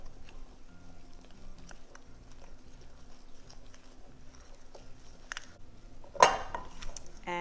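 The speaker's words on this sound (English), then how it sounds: "it's just hand mixed, you know, no mixer, no beater, no appliances, just a bowl and a spoon" A spoon hand-mixing cheddar biscuit batter with sour cream in a bowl, giving soft, faint scraping and tapping throughout and one sharper clink of the spoon against the bowl near the end.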